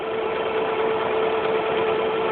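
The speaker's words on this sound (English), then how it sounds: "And it's going to go backwards first. And then it's going to make the side of the buttonhole." A Singer Curvy sewing machine runs while stitching a buttonhole, a steady close mechanical whir with an even hum and no pauses throughout, no talking.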